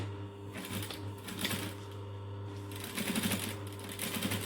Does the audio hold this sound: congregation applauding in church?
no